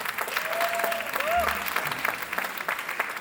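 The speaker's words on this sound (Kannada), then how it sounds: "ನಿಮ್ಮೆಲ್ಲರ ಜೋರಾದ ಚಪ್ಪಾಳೆಯೊಂದಿಗೆ ಮಕ್ಕಳನ್ನು ಸ್ವಾಗತಿಸೋಣ" Audience at a spring festival children's play applauds to welcome the children onstage, a moderate wash of clapping that runs steadily throughout, with a brief tonal sound near the start.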